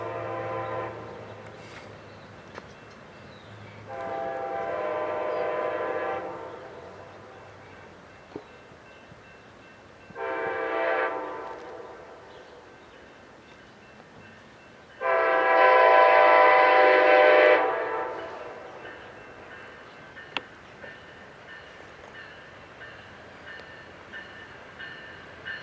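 A passenger train, number 769, pulls in at Simi Valley sounding its horn in three distinct blasts, the last one longest and loudest, over a low rumble of the approaching train.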